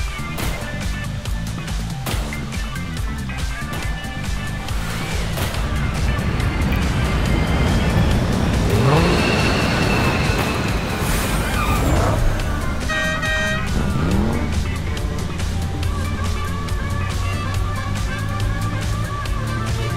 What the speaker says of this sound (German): Jetzt kommt ein fliegendes Auto.